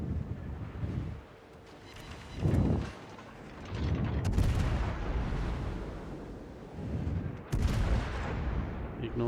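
Heavy warship guns firing in the naval battle game World of Warships, several deep booming salvos rolling out over a rumbling sea-and-engine backdrop, loud and spaced a few seconds apart.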